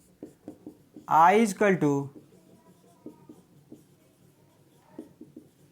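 Short scratchy taps and strokes of writing on a board during a physics lesson on the magnetic field at the centre of a current-carrying circular coil, close and fairly quiet, with a brief burst of a man's speech partway through.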